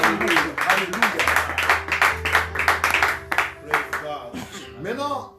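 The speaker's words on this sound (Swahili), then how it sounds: "unapaswa kuchapa makofi Mungu" Congregation clapping in praise of God at a church service, rapid irregular claps running steadily beneath a voice preaching throughout.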